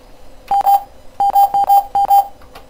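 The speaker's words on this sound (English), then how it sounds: "what was that odd beeping though?" Odd electronic beeping in a video game, a string of short, loud, dialing-tone-like beeps arriving in paired bursts with brief gaps between them, and no talking.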